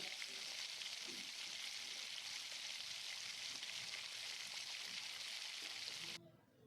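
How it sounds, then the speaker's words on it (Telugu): Chopped dry fruits fry in ghee for Hyderabadi sheer kurma, giving a steady, dense sizzle that runs evenly for about six seconds and then cuts off abruptly. "కట్ చేసి పెట్టుకున్న డ్రై ఫ్రూట్స్ అన్నింటినీ యాడ్ చేసి ఫ్రై చేసుకోవాలి"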